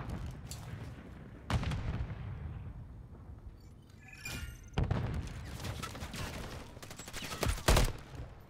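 Gunfire in a battle royale video game on a high-rise map, with bursts of shots and heavy reports scattered across the clip, including sharp loud cracks and rapid fire near the end over a steady low rumble.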